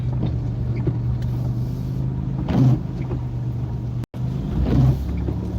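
A car with an anxious driver pulls slowly out of a driveway into rush-hour traffic. A low, steady engine rumble is heard from inside the cabin, with a couple of brief swells and one sudden short dropout.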